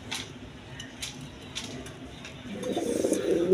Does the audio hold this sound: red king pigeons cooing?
yes